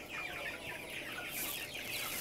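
Cobb 600 broiler chicks cluck and peep while eating feed, a soft, continuous chorus of overlapping chirps heard faintly from nearby.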